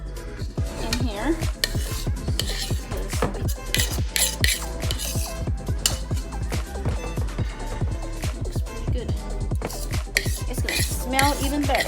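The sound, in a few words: spoon scraping banana bread batter from pan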